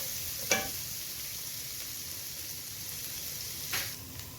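Continuous soft sizzle of chilies frying in hot oil, close up, with two brief scraping stirs.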